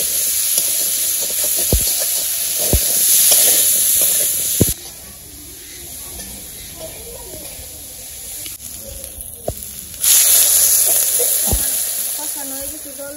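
Spices and food frying down in a pan in a village kitchen, a steady hiss and sizzle with occasional stirring clicks, quieting for a few seconds in the middle before flaring back up loud.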